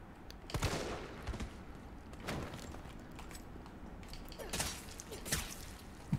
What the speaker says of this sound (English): My souped up pistol.